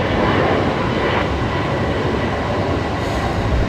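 A Boeing 737 Max 8 jet departing Brisbane Airport at night for Sydney gives a loud, steady broadband engine roar that holds for several seconds and eases slightly toward the end.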